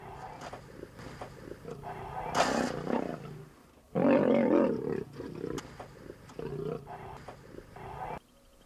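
Deep rumbling growls and roars from Asiatic lions fighting in Gujarat, rising in loud bursts and trailing off, with a voice talking faintly underneath.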